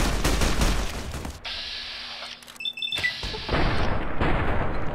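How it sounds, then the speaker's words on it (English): Rifle fire in Fallout New Vegas: loud, close shots with a rolling boom open the passage, then a quieter stretch with game tones, and heavy firing returns toward the end. "I switched to my sweet awesome rifle."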